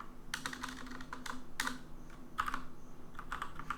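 Keys tapped on a computer keyboard while writing website code, a soft irregular patter of clicks in short runs over a faint room hum, close to the microphone.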